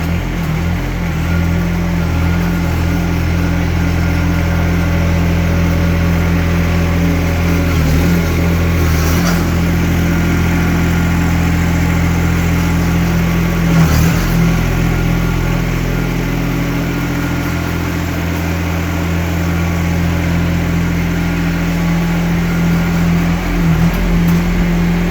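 Kymron XH20D mini-excavator engine running steadily in lower gear, a continuous mid-pitched diesel drone with a couple of brief clanks, close and loud throughout.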